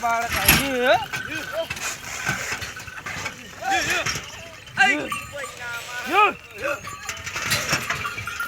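Bullocks plod along with bells clanking irregularly, amid background voices and a passing engine; the clanks come in loose bursts.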